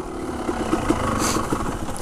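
A motorcycle engine lugs in first gear on a rough trail near a cliff, a low uneven chugging with small throttle blips, close and fairly quiet, with no talking.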